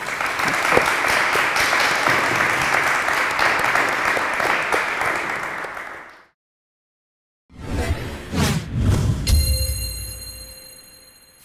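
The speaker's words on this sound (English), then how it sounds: "could you please give a big round of applause to her?" A studio audience at an interview with a scientist applauds heavily for about six seconds, a dense steady clatter of many hands, then cuts to silence before unrelated clattering and a tonal jingle.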